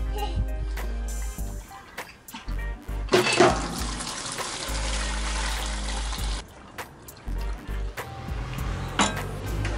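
A white vinegar and water mixture gushes out of a Jeep Cherokee XJ radiator in a steady broadband pour lasting about three seconds. Before and after it there are clanks, trickles and someone talking.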